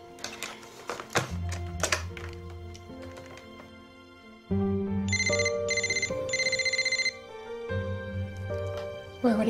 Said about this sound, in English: I'll call his cell phone.